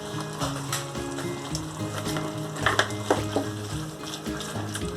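Jackfruit masala curry fries in oil with curry leaves, a steady close sizzle broken by sharper crackles and stirring scrapes.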